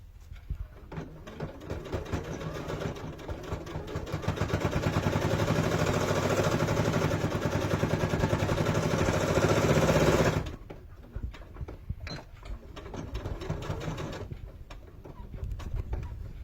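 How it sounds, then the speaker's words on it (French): A sewing machine runs steadily for about six seconds as it stitches a hem along the cut edge of a fabric duck-bill face mask, then stops, leaving quieter handling sounds. "Là maintenant on va faire un ourlet à l'endroit où on a fait justement notre trait de coupe."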